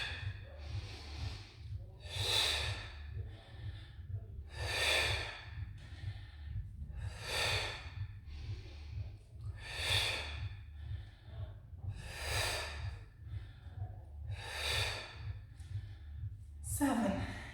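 Rhythmic, breathy exhales repeat about every two and a half seconds during a pregnancy exercise class in a gym studio, carried over a steady low music beat.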